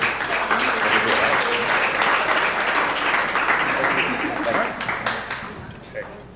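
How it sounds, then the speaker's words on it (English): An audience at a story slam welcomes a speaker with loud, sustained clapping from many hands. It tapers in the final seconds into a few scattered claps, and some talk mixes in as it fades. "Round of applause, please."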